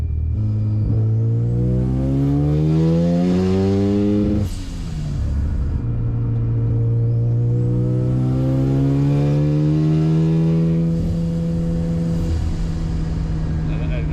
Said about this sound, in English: It's pretty cool to hear the turbo spool up and you can kind of preload it and then hit it, and there's no lag.